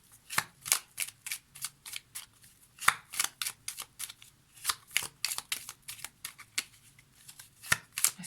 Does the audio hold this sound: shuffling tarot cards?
yes